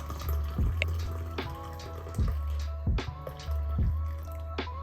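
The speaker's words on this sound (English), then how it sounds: "I'm just going to be adding some hot water" Hot water pours and trickles into a cup for a lemon and ginger infusion, with gurgling splashes and a few drips over a low hum.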